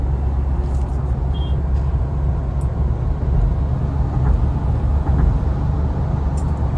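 Mahindra Thar driving along an empty road, a steady loud engine and tire rumble from inside the cabin with constant road noise throughout.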